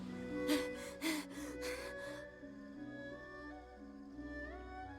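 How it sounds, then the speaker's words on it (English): A male character in a Genshin Impact Inazuma story event pants in about five quick, breathy bursts over a musical background, then the breathing fades into quieter ambient music. "Why is he panting?"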